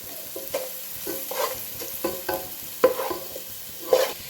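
Tomato rice being stirred in a pan, a spoon scraping and tossing the grains in a steady irregular rhythm with a couple of sharper clinks, a soft sizzle underneath, close and fairly loud, no voices.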